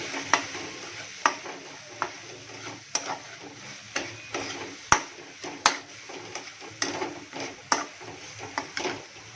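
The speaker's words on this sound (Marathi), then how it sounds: "थोडा मसाला भाजून घेतो" Ground masala with turmeric and garam masala roasting in a hot pan for a five-egg dish, a steady sizzle broken by repeated sharp scrapes and taps of a spoon stirring, close and clear with no talk.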